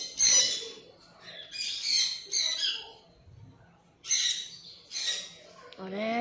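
Blue and gold macaw squawking in loud, harsh bursts while its nails are trimmed, the calls coming in several separated clusters at close range, with people speaking in between.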